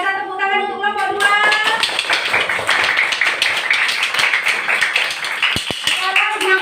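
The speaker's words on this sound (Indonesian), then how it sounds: "Tepuk tangan untuk kelompok 2." Students in a classroom clap for a group after its presentation: loud, dense rapid clapping close by, with voices speaking over it at the start and end.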